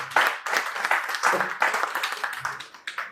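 An audience at a celebration event honouring a foundation claps together in a short burst of applause, dense and fairly close, rising and dipping in waves.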